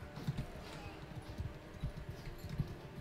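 Horse hooves clopping in Mount and Blade 2 Bannerlord, a steady walking rhythm of soft low thuds under a dense battle ambience, with a few stronger beats standing out.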